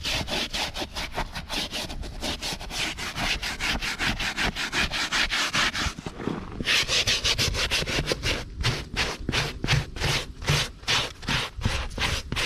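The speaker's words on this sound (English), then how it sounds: "Get in and scrub these heavier areas here. Just kind of agitate that cleaner in there real good." Stiff brush scrubbing cleaner into the heavily soiled interior of a used car, a steady loud rubbing rasp with rapid back-and-forth strokes that become sharper and more distinctly rhythmic in the second half.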